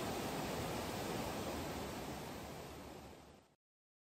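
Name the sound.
wild noise of a rushing mountain river fed by glacier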